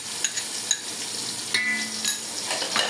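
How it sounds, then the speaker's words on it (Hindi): Garlic ginger paste sizzles in a hot pan of browned onions and chicken, a steady close frying hiss broken by a few light clinks of a spoon stirring against the pan. "अब इसके मम्मा डाल दिए लहसुन अदरक का पेस्ट"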